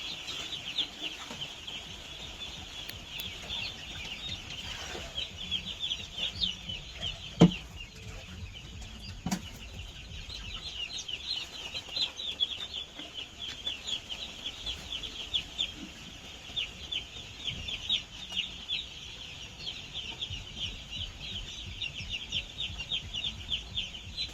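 Chickens in a paper-lined pen, a continuous chorus of high, rapid peeping and clucking that stays steady and moderately faint throughout, with no talking.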